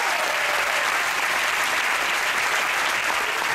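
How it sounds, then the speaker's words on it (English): Audience at an ice show aboard a cruise ship applauds the technical crew, a dense, loud, continuous roar of many clapping hands from a large crowd. "how about a round of applause for the technical team who made the show possible?"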